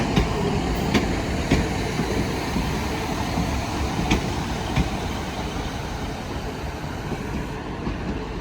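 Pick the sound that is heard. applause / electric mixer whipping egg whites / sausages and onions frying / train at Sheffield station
train at Sheffield station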